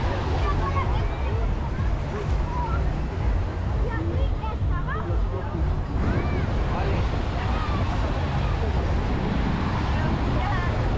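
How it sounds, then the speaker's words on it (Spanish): Ocean waves break and wash continuously on a sandy beach, a loud, dense rushing roar mixed with wind buffeting the microphone, with faint voices in the background. "cuando hay oleaje pasa esto, se lleva arena"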